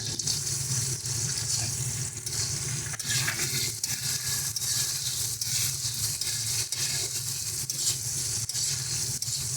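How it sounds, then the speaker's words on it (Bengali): Raisins and cashew nuts frying in hot oil, a steady loud sizzle that stays constant throughout with faint stirring underneath. "কিশমিশটা আর কাজু বাদামটাকে একটু হালকা করে ভেজে নিচ্ছি"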